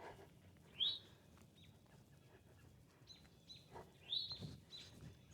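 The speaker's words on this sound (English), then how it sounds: "You can hear all the birds." Birds chirp outside a brick country house on ten acres in rural Georgia, giving two clear high calls about three seconds apart plus a few fainter tweets over a quiet outdoor background.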